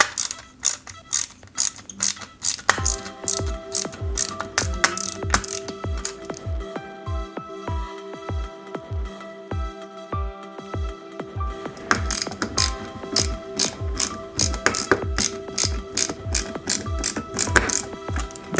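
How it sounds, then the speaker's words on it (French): Small screws are driven into a 1/8 scale Jaguar E-Type model kit, producing a long run of rapid, close ratcheting clicks from a screwdriver, with brief pauses between bursts and no talking. "À l'intérieur, on va y mettre 3 vis"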